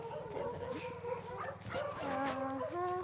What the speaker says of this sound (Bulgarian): Слепи кучета.